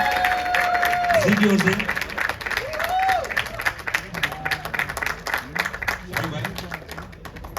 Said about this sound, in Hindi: शारिक साहब के लिए एक बार जोड़ा ताली चाहिए